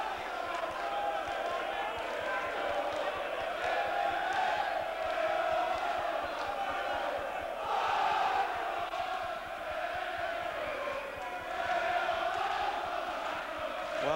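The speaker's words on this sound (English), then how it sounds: "this is some crowd here singing already, tops of their voices" A large boxing crowd at a Neville Brown versus Andy Flute fight sings loudly and steadily, a dense roar of massed voices swelling in waves throughout with no commentary over it.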